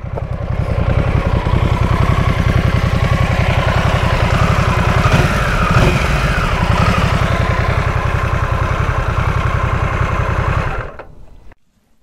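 A Harley-Davidson Nightster 975 motorcycle idles close by with a loud, steady, throbbing engine pulse that runs evenly for about eleven seconds before cutting off abruptly.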